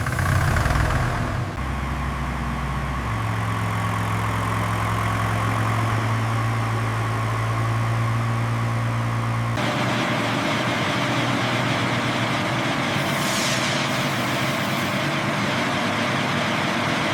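A Studebaker US6 6x6 military truck's engine runs steadily and loud, a deep idle rumble that shifts in pitch as the heavy vehicle pulls away, with no voices over it.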